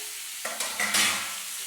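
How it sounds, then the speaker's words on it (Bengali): Vegetables with green chilies frying in a pan: steady bright sizzle that swells in a few quick bursts as food is stirred and tossed, close and alone with no voices. "এটাকে ভালো করে ভেজে নিতে হবে এবার কাঁচা লঙ্কাও দিয়ে দিলাম"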